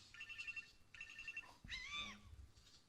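A phone rings on an alert fired by a Kamailio server during high CPU load: two short electronic chirping bursts, then a rising warbling tone with a low thump, faint and without talk.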